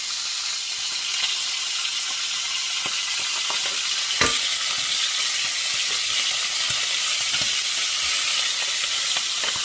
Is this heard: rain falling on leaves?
no